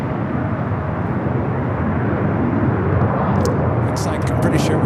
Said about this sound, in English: American Airlines Flight 26, an 8-year-old 787-9 Dreamliner